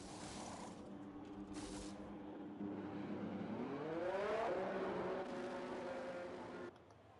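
A race car in a racing video game rolls into the pit lane with a steady engine whine that rises in pitch and then cuts off, heard quietly with no voices over it.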